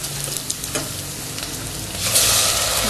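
Onions and ginger-garlic paste sautéing over low heat in oil in a pan, a continuous close sizzle with occasional stirring scrapes that swells louder near the end, no talk.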